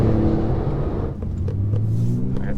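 Tuned 660 hp Porsche 911 Turbo S accelerating from inside the cabin, a deep, loud engine rumble that builds, dips and pulls again, with faint clicks above it.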